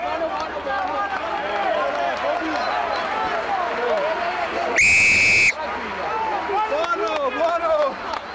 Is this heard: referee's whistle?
yes